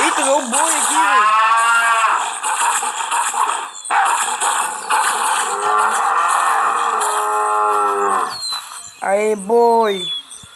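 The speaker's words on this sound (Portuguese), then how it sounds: "Eita, veio o boi aqui, velho." Loud, close cattle mooing, several long drawn-out lowing calls one after another, with some higher bleating cries and outdoor noise around them.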